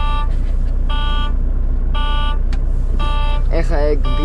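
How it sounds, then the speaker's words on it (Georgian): A truck's air-pressure warning sounds as a series of evenly spaced, loud electronic beeps over a steady low engine rumble inside the cab, with a brief voice near the end. "ეგ ბიპინი ჰაერის წნევას იმას შვება"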